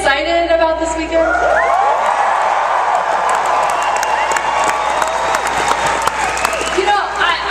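A large convention crowd of thousands at MINECON in Las Vegas cheers, whoops and applauds loudly and continuously, a dense roar from the hall.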